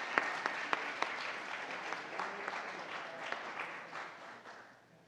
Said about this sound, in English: Let's also give them a round of applause for making it into Elands at a Western Region tournament.